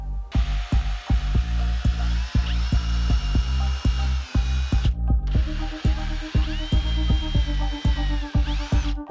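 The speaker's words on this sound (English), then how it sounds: "Now once you have your first 2 holes drilled" Drill boring angled holes into a cedar board for a wishing well build, with loud, close, rhythmic pulsing thuds and a high motor whine in two long bursts separated by a short pause.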